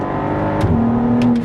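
Volkswagen Passat R36 engine revving up loudly and steadily, a rising drone holding strong through the whole short burst with no talk over it.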